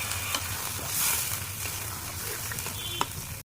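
A capsicum and paneer curry starts to simmer in a pot after a little water goes in, a soft, steady bubbling sizzle with a few faint utensil taps, then it cuts to silence.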